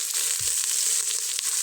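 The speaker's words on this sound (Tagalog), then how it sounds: "Igisa na natin." Food sautés in a pan during outdoor cooking, giving a steady, close sizzling hiss with a few soft stirring scrapes and no talk.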